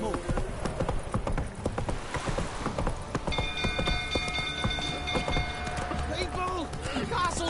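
A horse gallops with rhythmic clip-clop hooves inside The Witcher 3, surrounded by game ambience, rain-like noise and tonal effects, with a voice speaking over it.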